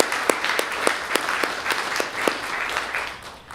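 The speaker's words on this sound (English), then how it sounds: "So a round of applause for first responders" An audience at a Homes for Our Troops ceremony applauds first responders, a steady stretch of clapping with a few sharper individual claps popping out near the front.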